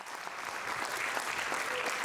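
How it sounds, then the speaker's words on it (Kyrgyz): An audience applauds at a conservatory concert of a traditional music and folk instruments orchestra, steady dense clapping filling the whole moment without pause. "Жакшылап кол чаап, сүрөп турабыз урматтуу музыка күйөрмандары."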